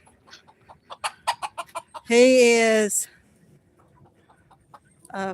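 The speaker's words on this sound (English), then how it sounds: "This is one of our Bantam roosters right here." A bantam rooster gives a series of short clucks, then a loud drawn-out crow, followed by quiet and another call starting at the end; someone speaks briefly.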